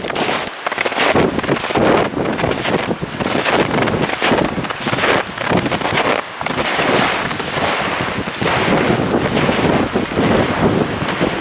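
Wind blows hard outdoors at the edge of timber, a continuous loud rushing and buffeting against the microphone with gusts rising and falling and no voices.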